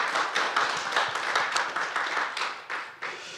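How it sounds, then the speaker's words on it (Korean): An audience at a history lecture on the March 1st holiday claps in a brief, fairly soft round of applause, with individual hand claps standing out in an uneven patter. "큰 박수 보내주시기 바랍니다"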